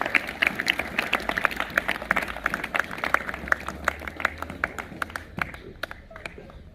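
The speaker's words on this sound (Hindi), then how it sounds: "तो जोरदार तालियां इन बच्चों के लिए।" Steady applause from an audience for children at a school Republic Day event, dense clapping that continues throughout and gradually fades toward the end.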